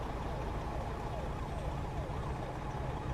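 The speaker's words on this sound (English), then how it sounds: "Like anytime we're over here, I hear a siren." A distant emergency siren wails in American Truck Simulator, its rising and falling tone repeating steadily beneath a constant low engine rumble while the truck drives through Missouri.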